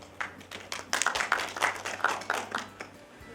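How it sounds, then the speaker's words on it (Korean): Scattered welcoming applause from a workshop audience at a panel discussion, a light, moderately sparse patter of hand claps lasting a few seconds, fairly soft and slightly distant. "참석 환영의 박수 부탁합니다"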